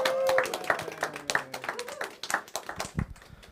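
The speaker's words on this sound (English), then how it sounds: "Everybody give them a round of applause." A small audience claps to welcome guests Craig and Scott, a brief burst of separate, fairly close handclaps that thins out and fades after a few seconds.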